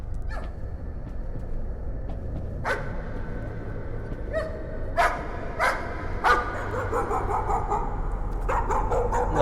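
Dog barks from the horror game Layers of Fear, a few scattered yips and barks over a steady low rumble, moderately close with no talk over them.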